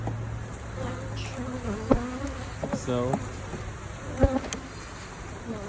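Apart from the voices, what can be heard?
honey bees buzzing in a hive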